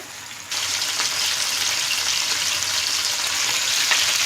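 Chicken frying in oil, with a loud, steady sizzling hiss that starts abruptly and continues at close range without pause.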